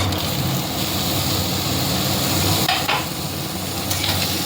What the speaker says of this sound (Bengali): এটাকে মশলার সাথে ভালো করে নেড়ে চেড়ে কষিয়ে নেব।